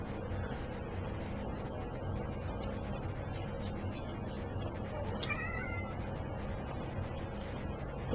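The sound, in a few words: cat meowing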